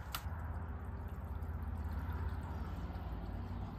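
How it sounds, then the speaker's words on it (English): Water poured steadily into the emptied cooling system of a Lexus LS430, a continuous low gurgling, splashing flow that runs close and unbroken throughout with no talking. "Now let's fill it up with water."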